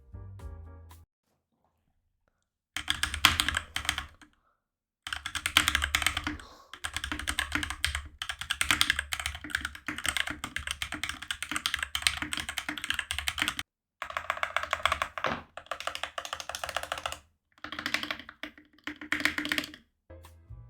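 Close, clattery typing on an unmodified budget mechanical keyboard: quick bursts of keystrokes separated by short pauses, with no talking.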